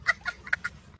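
A chicken clucking sound effect in a comedy sketch: four short, sharp clucks in quick succession, fairly close and clear, with no talking over them.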